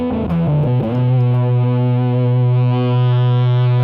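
Guitar through a Moog Minifooger pedal set for a filthy, dark distorted tone: a loud, sustained buzzing note after a few quick picked changes, thick and heavy, slightly brightening toward the end, with no talking.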